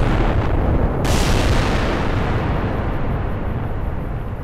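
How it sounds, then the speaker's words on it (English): Explosions in the video game Fallout: New Vegas: a loud, sudden blast burst followed by a long rumbling roar that slowly fades, with no talk over it. "Those explosions are still the worst sound."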